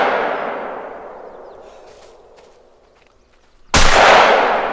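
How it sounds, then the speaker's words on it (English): A 12-gauge shotgun fires at a deer in theHunter: Call of the Wild. A single sudden, loud, close blast comes near the end, after a fading tail of an earlier report and a brief near-silence. "We're gonna have to take a shot on him"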